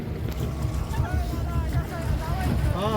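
A boat under way on open water, steered by hand while the driver shifts gear, with a steady engine drone and wind rush throughout and voices talking over it.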